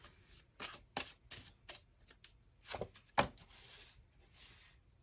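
Tarot cards slide and snap as they are drawn from a deck: a handful of close, soft papery swipes and flicks at irregular intervals, with quiet pauses between them and no talking.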